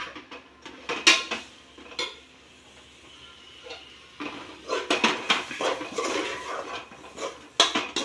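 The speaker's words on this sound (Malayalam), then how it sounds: "3 സ്പൂണ് മുളക് പൊടി, 1 സ്പൂണ് മഞ്ഞൾപ്പൊടി, 2 സ്പൂണ് മല്ലിപ്പൊടി ഇതൊന്നായിട്ട് ഞാൻ ഇതിലേക്ക് ഇടുന്നുണ്ട്" Spice powders of chilli, turmeric and coriander tipped into a pan and stirred, with a spoon scraping and clinking against the metal in bursts of quick strokes, separated by short pauses, fairly close.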